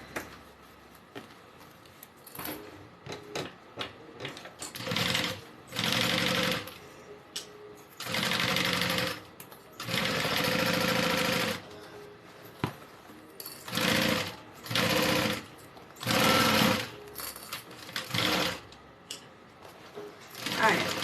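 A sewing machine stitches a Swoon Denver Backpack in repeated bursts of fast, rattling motor hum a second or two long, separated by short pauses. The stitching is close and loud, and a person talks quietly between runs.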